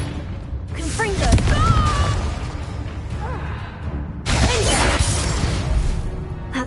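Fiery Confringo spell blasts in Hogwarts Legacy, loud bursting whooshes and crashes near 1 second and again around 4.3 seconds, amid ongoing combat noise and a voice shouting.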